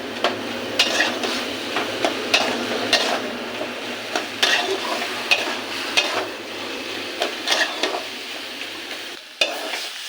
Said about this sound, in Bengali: শাকটা ভাজা হয়ে গেছে